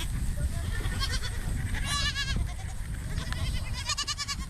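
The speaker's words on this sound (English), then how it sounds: "Myotonic goats go by many names: stiff goats, nervous goats, Tennessee fainting goats" Myotonic fainting goats on a farm bleat repeatedly in quavering calls, several overlapping at moderate distance over a steady outdoor background.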